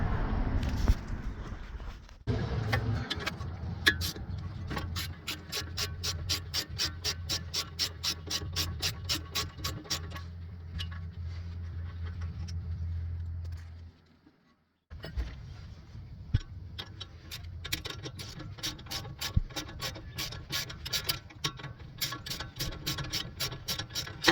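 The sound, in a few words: removing brake caliper nuts with a ratchet on a Chevy Camaro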